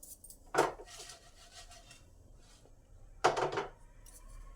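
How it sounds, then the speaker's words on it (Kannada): Dried red chilies dry-fried in a pan with no oil, with two short bursts of scraping, clattering stirring and quiet gaps between them. "ಈಗ ನಾನು ಒಣಮೆಣಸಿನ್ಕಾಯಿನ ಫ್ರೈ ಮಾಡ್ಕೊಳ್ತಾ ಇದ್ದೀನಿ"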